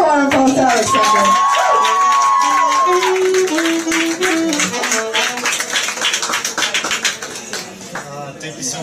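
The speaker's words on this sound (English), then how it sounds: "let's give a warm applause to Alexander" A live show audience breaks into applause and cheering, with a tonal whistle-like sound early on and a dense, sustained patter of clapping building through the middle before thinning out at the end.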